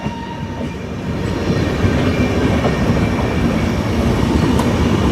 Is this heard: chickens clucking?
no